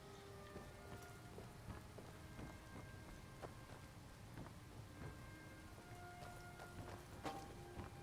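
Steady rain falling in Skyrim, a soft constant patter of drops on surfaces with scattered louder drips and faint low rumbling, quiet and continuous throughout.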